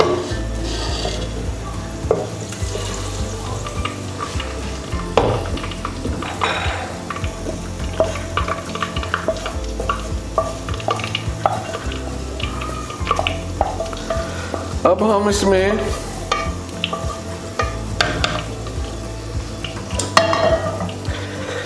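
Lightly browned ghee goes into a handi for daal mash, giving a busy sizzle mixed with stirring and clinks of pot and spoon, steady and close throughout with no talking.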